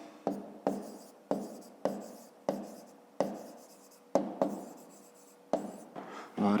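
A pen scratches out figures on paper while solving a fifth-grade maths exercise, with about ten short, crisp strokes in an uneven rhythm, close and fairly quiet.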